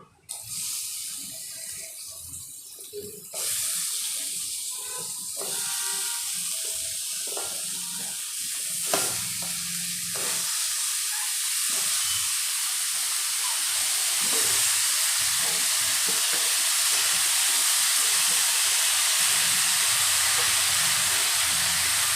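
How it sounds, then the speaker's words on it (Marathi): Red pumpkin (dangar) sautéing in a pan for a sattvic meal, a steady broadband sizzle and hiss that rises abruptly after a few seconds and holds loud and close to the end, with no talking. "छान परतून झालं की आपण डांगर टाकूया किंवा लाल भोपळा."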